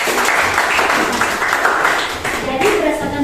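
Applause in a high school classroom, students clapping together in a steady mid-level burst that runs the whole clip while a voice talks over it.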